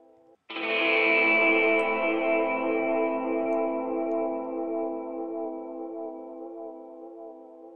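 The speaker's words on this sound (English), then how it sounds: "that echo repeat you get towards the end starts to almost set up a little bit of a tempo" RimWorld game start stinger through an analog delay, a bright chord struck after a brief quiet lead-in, then ringing on as its repeats blur into a long, slowly fading tail.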